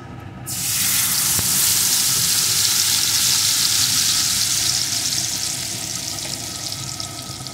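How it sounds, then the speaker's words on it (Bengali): Ground spice paste of onion, garlic and tomato hitting hot oil left from frying katla fish, bursting into a loud hiss that holds steady, then eases slightly, close with no talking. "এখন এই তেলের ভিতরে বেটে রাখা মশলাটা দিয়ে দেব।"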